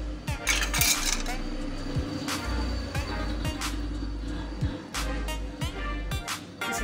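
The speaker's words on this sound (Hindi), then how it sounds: "इसी तरह से चम्मच से हिलाते जाएंगे।" A metal spoon stirs homemade mozzarella in a bowl of hot water, giving repeated clinks and scrapes against the dish over a low running background, close and fairly busy throughout.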